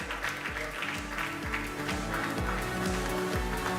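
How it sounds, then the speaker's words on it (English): Applause for the winning podium at an SRO Esports sim racing event in Barcelona rolls on as a steady crackle over repeated falling engine-rev sweeps from the racing simulation. "Big round of applause for our winning podium"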